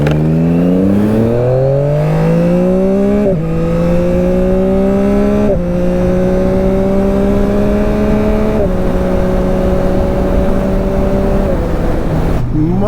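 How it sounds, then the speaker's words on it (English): A 2021 Yamaha MT-09 SP motorcycle accelerating in drive mode 4, its engine note climbing steadily through several gears with brief dips at each shift, loud and close throughout with wind noise. "So I'm going to show you guys what drive mode 4 feels like."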